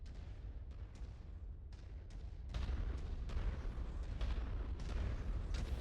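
LBX-20 autocannon blasting in MechWarrior 5, a series of heavy low booms with crackling bursts over a rumbling battle backdrop, growing louder halfway through.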